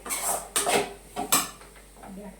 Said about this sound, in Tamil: நல்லா பச்சை வாசம் போகிற அளவுக்கு நல்லா கிண்டிக்கோங்க